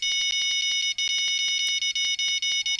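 Fishing rod bite alarms on a salmon fishing trip beep in a rapid, steady stream of regular electronic pulses, loud and close, with no talking.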